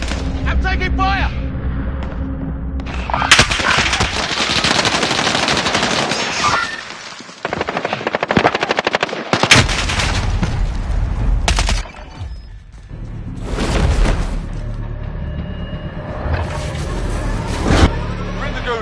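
Video game combat fills the scene with bursts of rapid automatic gunfire and heavy booming blasts, loud and close, in uneven volleys with brief lulls, while speech is heard briefly among the shots.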